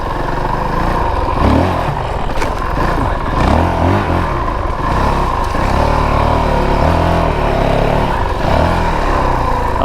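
A 2022 Honda CRF450RL dual sport motorcycle is ridden off-road on sugar sand, its engine droning steadily and loudly close by for the whole stretch, with the revs rising and falling as the throttle is worked.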